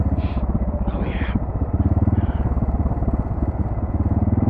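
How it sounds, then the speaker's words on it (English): ATV engine braking on a steep 45-degree off-road descent, a close, loud, rapidly pulsing engine rumble with steady rhythm and some intermittent hissing noise over it. "Engine brake's working though, buddy."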